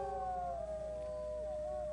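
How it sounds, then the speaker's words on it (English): Wolves howling in a sustained, wavering chorus of long drawn-out tones that slowly fall in pitch, fairly faint and distant, with no voices over them. "The howling gets louder"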